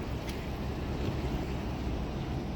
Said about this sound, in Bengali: লঞ্চটি ছেড়ে দিল এই